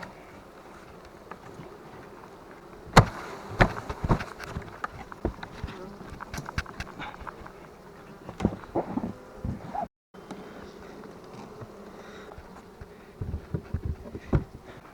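Honey bee swarm being settled into a hive at an apiary gives a steady insect buzz, with sharp close handling knocks and clicks from frames and hive parts throughout.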